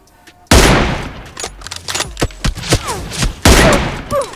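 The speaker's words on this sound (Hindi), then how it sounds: "मैं उसे अभी 2 M24 के शॉट चिपाऊंगा" Sniper rifle shots from an M24 in a battle royale video game, two loud booming cracks with echoing tails and scattered smaller shots and effects between them, no voices.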